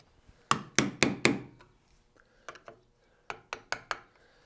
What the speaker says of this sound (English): I'm going to manually with this mallet here at the end tap this out